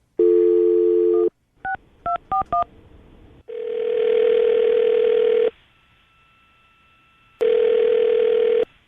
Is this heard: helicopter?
no